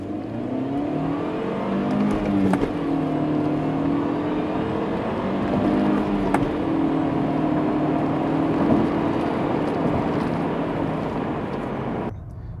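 A supercharged 1.8-liter engine in a 2004 Mercedes-Benz CLK 200 Kompressor Cabriolet hums steadily at moderate volume with a rising, wavering drone, like a vehicle accelerating and cruising, with no one talking.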